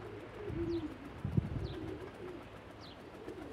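Pigeons cooing softly outdoors, low rolling coos rising and falling, fairly faint, with a few small bird chirps scattered around them.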